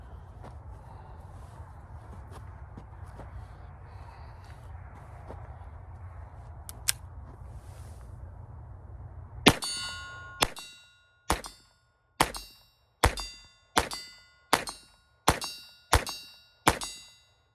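A Browning 1911 .22 LR pistol fires off a magazine: about nine sharp, loud shots at a steady, evenly spaced rhythm, each with a bright metallic crack, after a stretch of quiet background.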